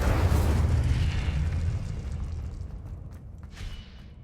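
A fire spell blast in Hogwarts Legacy: a loud, deep booming burst at the start that rumbles and slowly fades over several seconds, with a smaller flare near the end.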